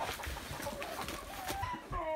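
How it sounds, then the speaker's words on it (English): Chickens cluck faintly around a coop with deep composting bedding, giving short, scattered calls over a low background rustle that grow a little clearer near the end. "Yeah, we're going to the chickens now."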